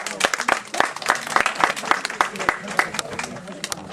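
Steady applause from an audience at a Christmas theatre show, dense overlapping claps at an even pace, fairly loud and close, continuing throughout.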